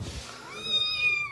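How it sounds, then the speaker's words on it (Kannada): A cat meows once with a rising, drawn-out tonal call, fairly close and clear, after a brief moment of low background noise in a village home. "ಇಲ್ಲಿ ಬೆಕ್ಕಿನ ಐತಿ"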